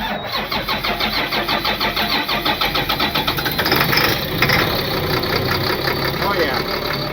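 Engine of a piece of auction equipment cranks with a rapid rhythmic chug for several seconds, then catches and settles into a loud, steady running rumble up close, with people talking over it.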